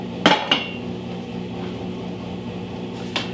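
A 3-quart cookware saucepan and its lid being handled: two close metallic clanks at the start and a third, lighter clink near the end, with quiet room noise between.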